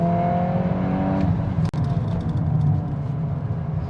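A Volkswagen Golf R accelerates hard in Nürburgring mode. The engine note climbs loudly, breaks for a quick gear shift partway through, then pulls on at a lower, steady drone.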